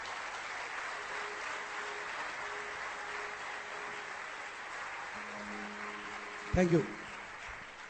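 A large audience of chartered accountants keeps clapping after a talk, a dense, even wash of applause, with someone briefly speaking over it near the end.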